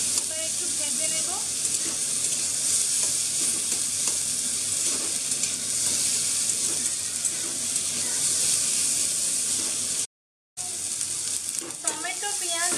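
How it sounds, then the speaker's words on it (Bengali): Onion, chopped garlic and tomato fry in oil in a home kitchen, a loud continuous sizzle with stirring scrapes, broken by one brief gap. "তেলটার মধ্যে আমি দিয়ে দিলাম পেঁয়াজ, রসুন কুচি, দেখতেই পাচ্ছ, টমেটো দিয়ে দিয়েছি। এবার একটু ভেজে নেব।"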